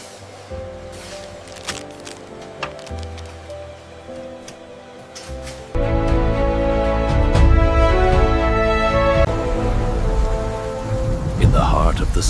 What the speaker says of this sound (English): This rain won't let up.